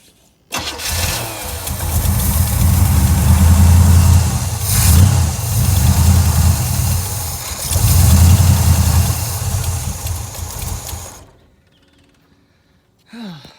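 A third-generation Chevrolet Camaro engine cranks, catches and runs roughly with uneven surges for several seconds, then dies and stalls out, leaving near silence and a brief click at the end.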